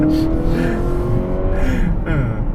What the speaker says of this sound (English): I like the sound of the engine though. In sports mode, it kind of sounds like a, you know, Honda Civic, but with some oomph to it.